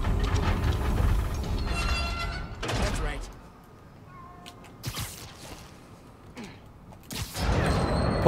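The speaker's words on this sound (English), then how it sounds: "We've got trains on the tracks." Trains run along tracks in the Spider-Man Miles Morales video game, with a heavy rumbling pass, metallic creaks and clanks, and sharp mechanical bursts, loud at the start and end with a quieter stretch between.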